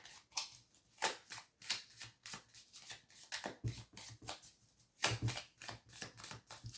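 Scissors snip steadily at close range in a quiet room, a quick run of crisp cuts with short pauses between them and two louder bursts of snipping.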